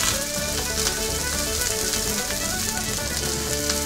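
Food frying in oil in a small pan, a loud, dense crackle and sizzle that stays constant throughout and is close up.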